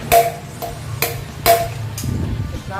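Front wheel bearing being driven out of a Yamaha Aerox V2 with a hammer, five sharp metallic strikes spaced about half a second apart, close and loud, with a workshop hum underneath.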